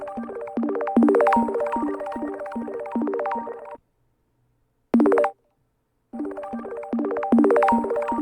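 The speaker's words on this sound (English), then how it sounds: "I did want to have another layer on it with another pluck, but this time I added a volume automation" Layered synth pluck for a rage-style trap beat, playing a quick bright repeating pattern that cuts to silence abruptly under volume automation, with a short burst in the gap before the pattern resumes.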